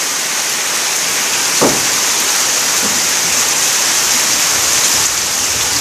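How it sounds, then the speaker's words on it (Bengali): Heavy rain pours down in a constant, loud hiss, with a faint thump partway through and no voices. "কি হারে বৃষ্টি হচ্ছে"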